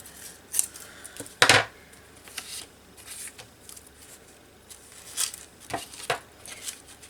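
Scissors trim paper for a small paper bag journal, a handful of crisp, close snips and rustles scattered unevenly, one sharper cut standing out early, with no talking.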